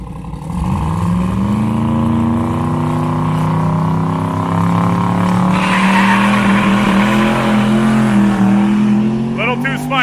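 Buick drag racing car making a pass down the track, loud rising engine roar with tire noise sustained over the whole stretch, voices talking underneath.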